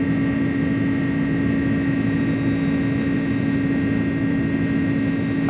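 Inibuilds A300 airliner engines in cruise in a flight simulator, a steady loud jet drone with a constant hum and no pauses.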